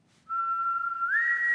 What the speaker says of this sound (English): Nice whistle